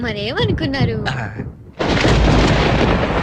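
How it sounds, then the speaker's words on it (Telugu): Thunder and heavy rain break in after a brief spoken exchange, a loud, dense, continuous roar that fills the rest of the moment. "అయ్యో, వర్షం తడిచిపోతారండి."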